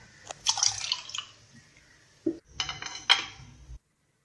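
Water splashes and trickles into a bowl of urad and chana dal lentils in a couple of bursts, with light clinks of a dish, close by and fairly quiet.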